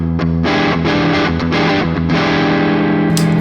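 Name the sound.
electric guitar pickups in parallel mode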